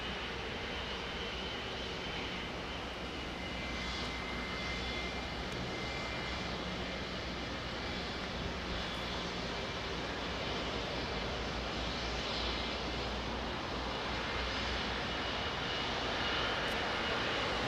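A Boeing 787 Dreamliner jet on Heathrow's runway 09R, close up, gives a continuous, steady engine roar with a slight swell toward the end.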